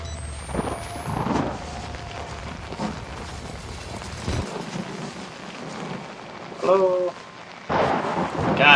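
Thunder and rain in the horror video game Outlast: a continuous wash of rain with heavy thunder rumbles swelling near the start and again toward the end, loud, among scattered game noises.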